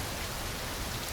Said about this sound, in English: Outside, it starts to rain.